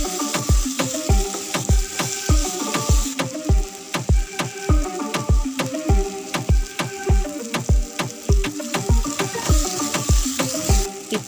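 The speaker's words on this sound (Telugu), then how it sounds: "ఇవి కాస్త మగ్గాక 2 టేబుల్ స్పూన్ల అల్లం వెల్లుల్లి పేస్ట్ వేసుకుని కలుపుకోవాలి." Tomatoes frying with ginger garlic paste as they are stirred for a spiny gourd curry. A spatula knocks against the pan in a fast, steady metallic rhythm over a light sizzle, close and continuous.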